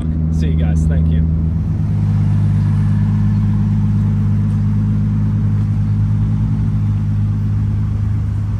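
A car engine idling and rumbling low and steady as the car is loaded onto a transport truck, close and loud, with brief talk over the start.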